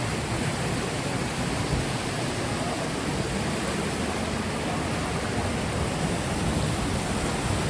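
The flooded Barak River pours over a bridge in a dense, steady roar of rushing water, loud and close, with no breaks or other sounds standing out.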